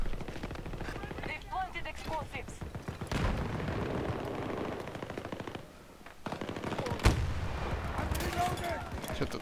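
Gunfire strikes an armored tank in Battlefield 2042, with sustained machine-gun rattle and heavy impacts filling the mix while players talk over the firing and a louder crack near the end.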